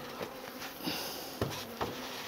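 Honeybees buzzing around an opened beehive that had heavy varroa infestation the previous year; a steady close hum with individual bees zipping past the listener in brief louder swells.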